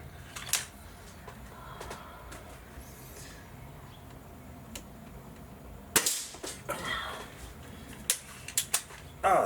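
A Gamo Whisper Fusion air rifle fires a sharp, close, suppressed crack midway through, followed by a few smaller mechanical clicks and clacks against a quiet outdoor background.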